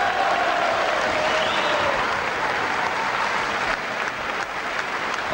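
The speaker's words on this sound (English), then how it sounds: "Applause ringing round this Guild Hall." Applause rings around the Guild Hall at a boxing match, a sustained wash of crowd clapping. Early on a faint whistle rises over it, and a commentator's voice is barely present.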